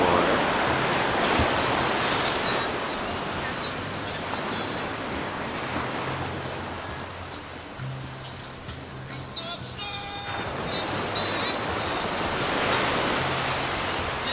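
Ocean surf washing steadily onto a warm Caribbean resort beach, a continuous broadband rush with swells rising and falling, fairly close, with faint voices in the background.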